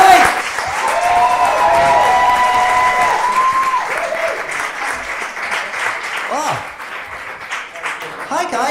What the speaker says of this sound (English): So will you carry on a round of applause for our next act, the very talented Sam Lake